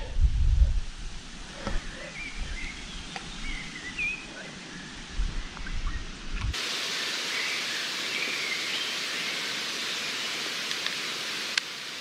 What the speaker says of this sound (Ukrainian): Вітер піднявся сильний і хмари жене.